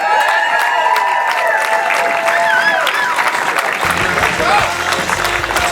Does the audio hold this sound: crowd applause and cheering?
yes